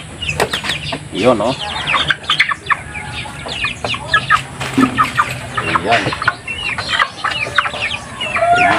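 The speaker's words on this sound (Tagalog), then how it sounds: "ang laki na ng 45 days natin na manok" A crowd of 45-day-old broiler chickens clucks and chatters at close range, with dense overlapping calls and someone speaking intermittently.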